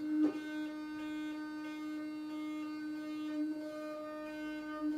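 OLirbo electric toothbrush running in massage mode, a steady buzzing hum with a regular pulsing pattern repeating about every half second, close and moderately quiet, with no talk.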